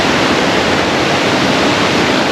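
River water flowing in a steady, loud broadband rush, continuous and unbroken with no voices over it.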